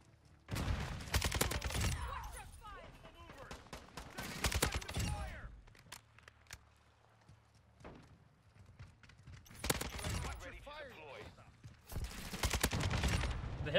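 Bursts of rapid automatic fire from a Kastov 762 rifle, shot from the hip in Call of Duty: Modern Warfare, arrive in several loud clusters separated by brief lulls, with footsteps and game effects filling the gaps.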